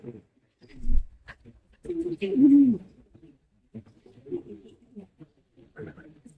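Pigeons coo softly inside a pigeon house where they are building nests in each compartment, with racing homers among them. The low, throaty calls come in short bursts among pauses, mixed with a voice speaking at times.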